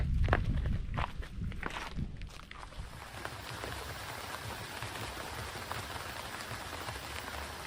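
Rain falls outdoors in the countryside as a steady, fairly quiet hiss, with a few thuds and footstep-like crunches in the first few seconds before the rain continues alone.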